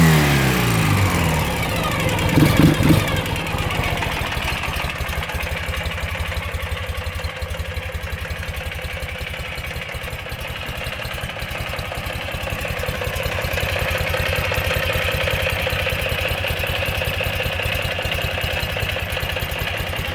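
A 2009 Ural GearUp 2WD motorcycle engine idles steadily and loudly up close after a slightly bumpy start, keeping a continuous mechanical throb with light clatter throughout and no speech.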